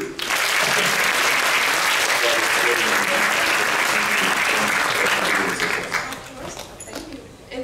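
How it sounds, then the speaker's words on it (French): Sustained audience applause fills a theatre at the opening ceremony of a magic show in Monaco, dense and steady before fading slightly toward the end. "Bon, on l'applaudit."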